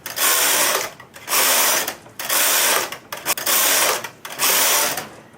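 A knitting machine carriage is pushed across the bed to knit a row for a picot hem, giving five loud, even whooshing, rasping passes with short gaps between them, close up and with no talk.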